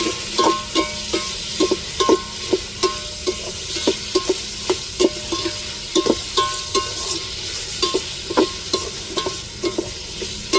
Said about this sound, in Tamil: இப்போ பச்சை மிளகாயும் சேர்த்துக்கிறோம் தக்காளியோட நல்லா வதங்கட்டும்